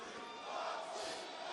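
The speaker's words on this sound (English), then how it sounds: "And you hear the fans. And the crowd is behind him." A wrestling arena crowd at an AEW pay-per-view cheers for Jon Moxley, a steady, dense roar of many voices with a slight swell in the middle, heard at a fairly low level.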